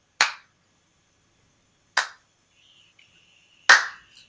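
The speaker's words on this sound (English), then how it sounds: "you hear clapping." Three slow, evenly spaced claps ring out sharply in a quiet space, each one a crisp single smack with a short decay and long pauses between, during a tabletop fantasy role-play session.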